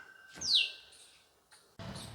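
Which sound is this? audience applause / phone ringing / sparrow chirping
sparrow chirping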